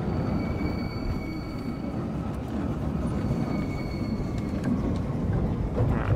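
A double tram rolls along its tracks in Tram Simulator Urban Transit, giving a continuous low rumble of wheels and motor with faint squeals, steady and moderately quiet throughout.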